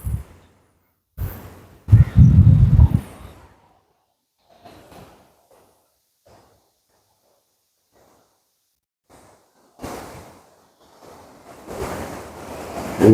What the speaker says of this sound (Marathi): आपण ना आता आलोय समुद्राजवळ